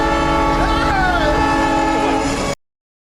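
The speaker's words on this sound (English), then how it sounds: "even when the train is passing." A train roars past with its horn blaring in a loud, sustained chord over heavy rumbling and rail noise, close and dominant for two and a half seconds before cutting abruptly to silence.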